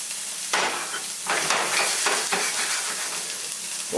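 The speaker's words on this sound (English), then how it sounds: "Now we're going to toss in our onion and green pepper." Onion and green pepper hit hot oil with a burst of loud, steady sizzling and crackling, with a few clanks from stirring, no voices.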